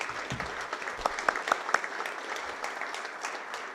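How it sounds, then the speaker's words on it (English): Audience applause at a community meeting on downtown crime prevention and lighting, a soft, steady wash of many hands with a few sharper, closer claps standing out near the middle. "So that's worthy of an applause."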